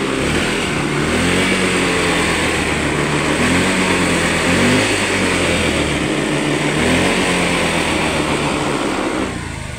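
Motorcycle engine running after a wiring repair, a loud, steady close drone with a low throbbing tone and slight rises in revs, then cutting off at the end.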